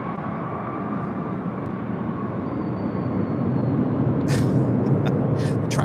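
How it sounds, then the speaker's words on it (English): A jet airliner passes over near LAX with a steady, loud broadband roar that swells slightly toward the end, while brief higher-pitched hisses and clanks cut in over the continuous engine rumble. "Talking about the airplane sound, primarily when they fly over us here."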